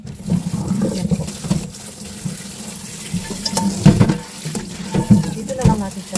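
Tap water running steadily into a sink while spinach is rinsed under it, with intermittent splashing and sloshing bursts from handling the leaves.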